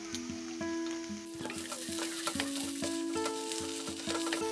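A spatula mashes and mixes spiced potato filling for samosas in a pan, with soft scraping and knocking strokes over a low sizzle, and some steady tonal hum in the background.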